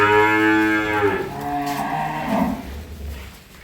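A heifer calf on a dairy farm raising improved-breed milk cows lets out a single long, loud, close moo that slowly trails off into a lower, fading call.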